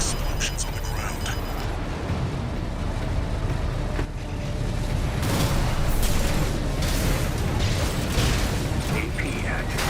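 Explosions go off on the ground in the mech combat game Armored Core VI: Fires of Rubicon. Loud, rumbling blasts and booms hit in a dense cluster over a constant mechanical din, with the heaviest bursts in the second half.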